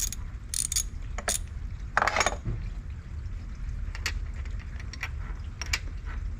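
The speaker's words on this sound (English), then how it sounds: "we're going to go ahead and pop off our bolt here for the oil filter housing" A ratchet loosens the bolt on a car's oil filter housing under the hood, with several short bursts of quick clicking separated by pauses, close and clear, with no talking.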